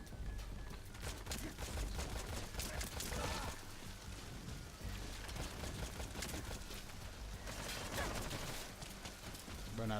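Rapid gunfire from a single-fire gun in a video game crackles in dense, repeated bursts of shots over game effects and background sounds throughout.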